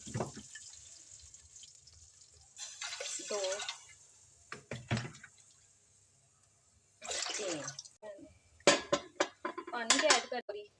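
Water pours into a metal pot in short bursts while making kadhi pakora, followed by clinking utensils and dish sounds, with someone speaking briefly in between.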